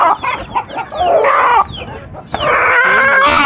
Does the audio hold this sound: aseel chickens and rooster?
yes